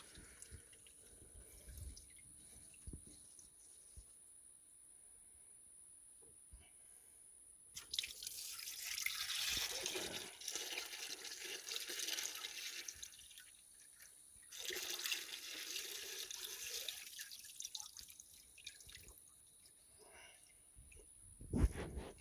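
Coolant from the lower radiator hose of a 1996 Ford F350 7.3L truck pours into a pan in two gushing, splashing bursts, with quiet dripping before and between them.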